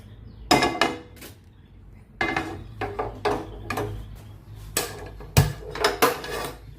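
A cooking pan clanks and knocks as it is picked up and handled in a home kitchen while chicken kebabs are being made. Separate sharp metallic clatters come in irregular bursts at close range, with quiet gaps between them.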